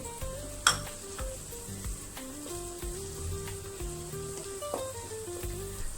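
Chopped onions sizzle and fry in a pan for a chicken curry as spices go in, with a steady hiss, light metallic clinks of a spoon against the pan and one sharp clatter early on.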